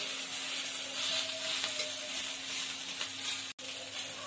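Onions sautéing in a pan for an egg masala curry, browning to golden, give a steady, dense sizzle with faint stirring, close and continuous, broken by a brief dropout near the end.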